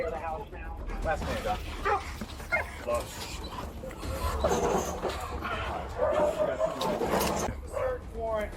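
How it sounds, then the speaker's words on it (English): A frightened dog yips, barks and whimpers during a police SWAT raid on a gang suspect's home, its high whines and short barks coming in bursts under frequent talk from officers. "That dog is scared, bro."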